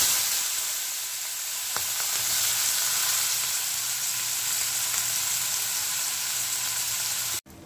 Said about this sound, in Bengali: তো এইবারে আমি ওই তেলের মধ্যেই দিয়ে দিচ্ছি রিং রিং করে কেটে রাখা পেঁয়াজ